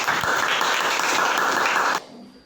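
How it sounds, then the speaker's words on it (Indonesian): A classroom audience applauds a student presentation group, a dense, loud burst of clapping that holds steady for two seconds, then cuts off abruptly into near quiet. "Tepuk tangan untuk kelompok 3."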